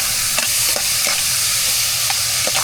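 A salmon head sautés in a pan with a loud, steady sizzle, punctuated by several sharp spatula scrapes and taps at irregular intervals.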